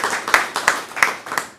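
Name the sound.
audience applause for a speaker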